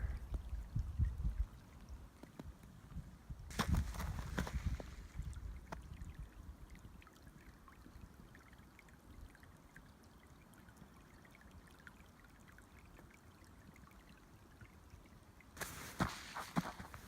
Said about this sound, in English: Can't believe this water is still flowing.